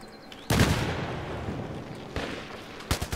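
Gunfire in the Battlefield 3 video game: a loud burst of shots with a lingering rumbling tail, then another blast and a quick cluster of sharp reports near the end.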